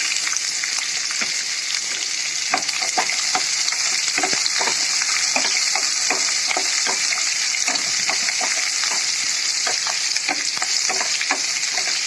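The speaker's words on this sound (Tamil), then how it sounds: "கருவேப்பிலை போட்டுக்கலாம். வெங்காயம் போட்டுக்கலாம்." Onions and curry leaves fry in a pan for potato poriyal, producing a loud, constant sizzle with regular scraping taps from stirring throughout, near and without talk.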